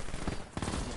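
Rapid-fire gunfire from a video game, a short dense burst of quick shots that breaks off briefly midway and then resumes.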